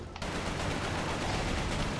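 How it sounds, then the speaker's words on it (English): Explosion in the PS3 shooter Resistance: Fall of Man: a sudden loud blast bursts in after a brief quiet moment, then a dense, rumbling wash of noise sustains for the rest of the clip, with no voices. "That was kind of underwhelming explosion"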